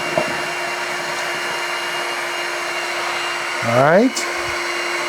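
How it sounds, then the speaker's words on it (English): A Shark HydroVac WD161 corded vacuum mop runs in deep clean mode, a steady loud motor whine with a constant tone throughout, rising briefly in pitch near the end as it works on a mess; a voice speaks briefly. "And now when I move it back and forth, it's going to put solution down and suction the entire time."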